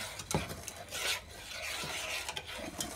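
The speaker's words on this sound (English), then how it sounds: "give that a little bit of a stir to get it all mixed together" A spoon scrapes and rasps through a thick brown sugar mixture in a pot, giving close, gritty stirring strokes in an uneven rhythm with no talking.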